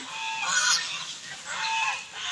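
Ducks honking loudly nearby in two short bursts of nasal calls, with no speech over them.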